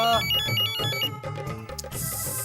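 A melodic mobile ringtone plays loudly over background music, repeating its short tune steadily with no talking.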